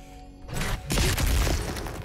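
A cryo grenade goes off in Doom Eternal: a quiet lead-in, then a sudden loud burst and a heavy booming, shattering blast that lingers for over a second before easing.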